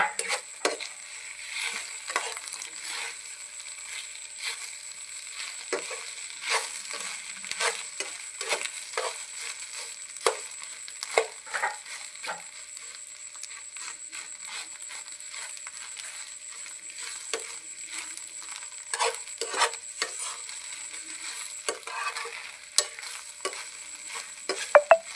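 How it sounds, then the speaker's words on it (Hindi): Omelette with cumin and chilli frying in a pan, with steady sizzling and frequent scraping, stirring clatters throughout, close and moderately loud. "अब देखिए डालेंगे हम इसमें आमलेट"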